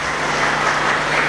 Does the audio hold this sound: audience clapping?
yes